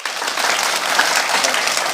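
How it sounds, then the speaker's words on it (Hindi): Steady, dense applause from a crowd clapping for teachers at a Teacher's Day gathering, continuous and fairly loud with no break. "टीचरों के लिए तालियां बजाएं सब।"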